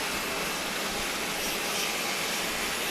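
Cayman Airways Express airplane on a flight to Cayman Brac, a steady, loud engine roar that holds evenly with no gaps.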